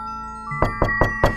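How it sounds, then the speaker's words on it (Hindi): Four firm, evenly spaced knocks land on a door as a horror-story sound effect, close and sharp over a low sustained musical drone. "दरवाजे पर दस्तक हुई"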